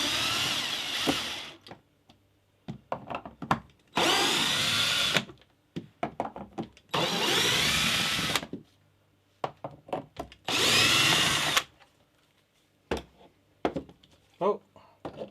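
Power drill backing screws out of the bottom plate of a homemade wooden ingot mould used for casting copper bullion bars: four loud bursts of whirring drill, each a second or so long, between clattering handling noises and bouts of nearby talk.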